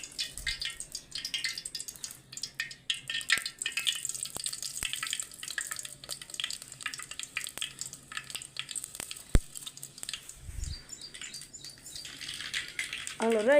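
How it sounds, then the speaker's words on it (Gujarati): Spices for stuffed gunda curry sizzle and crackle in hot oil in a home kitchen, a faint, steady frying hiss broken by scattered pops and a few louder clicks, with no one talking. "હાલો વઘારવાનું ચાલુ કરી દીધું તેલ આવી ગયું"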